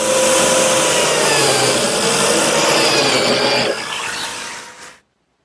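A biscuit joiner cuts slots in wood for a four-drawer chest, giving a loud, steady high-pitched whine that drops in tone partway through and then winds down and stops.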